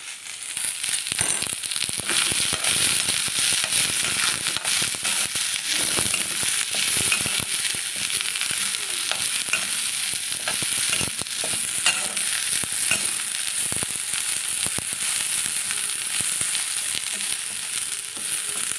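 Chopped garlic and grated elephant foot yam frying in hot oil in a pan until browned, a loud, steady, dense sizzle and crackle with occasional stirring scrapes, no talk.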